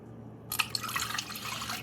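Water splashes and trickles into a pot after a half-second of quiet, a short, close pour with light drips.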